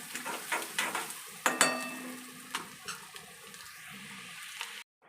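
Chopped onion frying in a pan for a homestyle cluster bean curry, a soft sizzle under repeated stirring and scraping taps of a spoon, close by, with no talk, before it cuts off abruptly.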